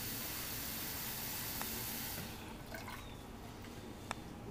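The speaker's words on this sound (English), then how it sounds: "first I'm going to wash the rice to make sure" Two cups of rice are rinsed in water, making a steady wet hiss and rush that softens partway through, with a few faint drips and light clinks following.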